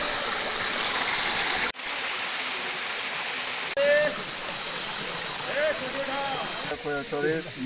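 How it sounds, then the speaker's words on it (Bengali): Khoiyachora waterfall flowing during a low-water season, heard as a steady, loud broadband rush of falling water throughout, with brief shifts and faint voices or calls in the later part. "এখান দিয়ে ঝর্ণাটা পড়ে"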